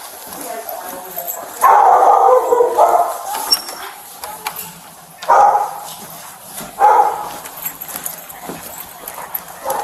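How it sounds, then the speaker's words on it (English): A dog named Dobby barks in several loud bursts separated by short pauses, with yips and whimpers mixed in and people talking nearby. "Why is he barking so much?"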